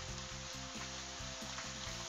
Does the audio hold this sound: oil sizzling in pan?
yes